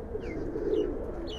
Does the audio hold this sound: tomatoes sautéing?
no